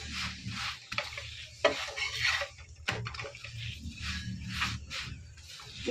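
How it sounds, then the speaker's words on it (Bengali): A paratha (dal puri) fries in a little oil in a pan, giving quiet, uneven sizzling with soft scrapes and turning noises in irregular bursts. "এইভাবে ভাজলে তেলটাও কম লাগে"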